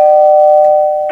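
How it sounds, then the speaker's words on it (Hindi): A single doorbell rings with a steady electronic tone that holds for about a second before a brief clatter at the end; close and loud, with no voices. "मैं और एक बार घंटी बजा रहा हूँ"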